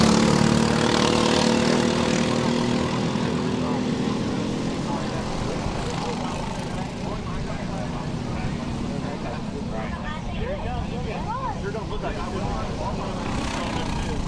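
Race car engines cranked up at the start of a club race at Whiteland Raceway Park: a dense, steady mechanical roar with rising and falling engine whines, with a voice talking over it throughout.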